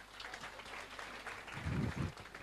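Brief, faint audience applause in a lecture hall during an accounting class, a soft patter of clapping lasting about two seconds with a slightly fuller burst near the end.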